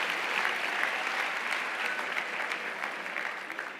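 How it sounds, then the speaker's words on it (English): A university audience at a campus opening ceremony breaks into sustained, even applause, a thick wash of many hands that holds steady and then begins to thin and fade toward the end. "So give yourself another round of applause, please."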